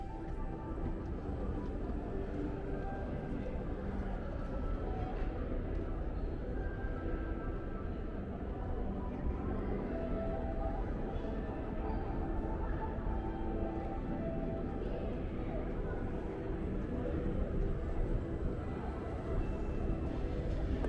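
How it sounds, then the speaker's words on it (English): A New York City subway 1 train rumbles steadily near a downtown Manhattan street, a continuous low mechanical roar with faint metallic tonal squeals layered on top throughout, no voices. "That in front of us is the 1 train."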